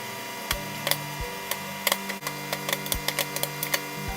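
Popcorn pops irregularly inside a microwave oven running upside down, sharp close cracks scattered over a steady low hum of the appliance.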